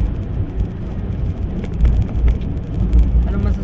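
Steady rain falls outdoors on a trip to a cave with an underground swimming pool in Zambales, a dense broadband hiss with low rumbling swells, loud and continuous with no talk.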